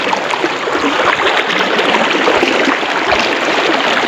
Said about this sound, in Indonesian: Jadi kita menyeberang sungai ini sebanyak 3 kali di sungai yang deras dan dalam ini